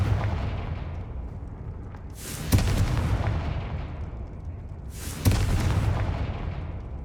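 Two loud, close fire-spell blasts from the Confringo spell in Hogwarts Legacy, each a sharp crack that swells into a rumbling boom, heard a few seconds apart over a low continuous game rumble.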